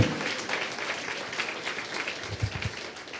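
A congregation claps together during a sermon, with dense, steady hand-claps at moderate volume that hold for a few seconds and have a few louder accents.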